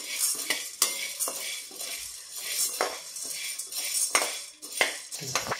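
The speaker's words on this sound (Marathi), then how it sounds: "1 वाटी मी हरभऱ्याची डाळ घालतीये स्वच्छ पुसून घेतलेली आणि ही सुद्धा स्लो टू मीडियम हीटवर आपल्याला छान भाजून घ्यायची आहे" Chana dal dry-roasting in a pan over slow to medium heat, stirred with a metal spoon that scrapes and clinks steadily against the pan, close and busy with faint sizzling beneath.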